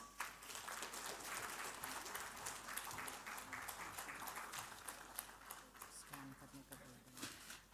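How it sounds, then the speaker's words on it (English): Indoor applause from an audience at a BRICS-CCI annual recognition awards opening ceremony, a dense sustained patter of many hands clapping, steady and moderately loud throughout with faint voices beneath. "Can we have a huge round of applause?"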